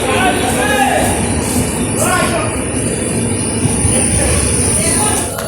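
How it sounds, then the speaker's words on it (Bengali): The Uttarbanga Express pulls into Dinhata station with a loud, close, continuous rumble of wheels and carriages. Voices and platform noise mix in with the train. "তো 10টা 18-তে দিনাটা স্টেশনে ঢুকলো ট্রেনটা।"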